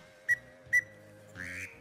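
Wooden duck call whistle used for duck hunting, sounding like live ducks on water: two short sharp peeps, then a longer raspy burst, all faint and alone against a quiet background.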